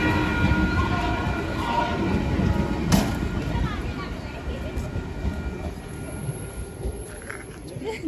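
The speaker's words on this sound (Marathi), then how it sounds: "आणि आता ही आहे ट्रेन जाणार डायरेक्ट खोपोलीला" A passenger train pulling out toward Khopoli in misty hill country, a steady low rumble of rolling wagons with a short sharp clank near the middle, moderately loud and continuous.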